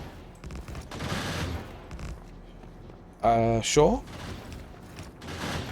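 Video game turrets fire in rapid bursts, with a loud close rattle of shots standing out briefly midway through, while a person talks before and after.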